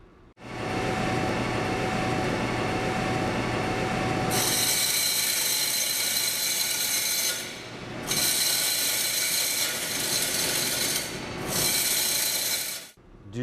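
A pedestal bench grinder runs with its abrasive stone spinning, a steady loud mechanical whir that surges into harsher, brighter grinding bursts, cut by two brief dips before the motor stops.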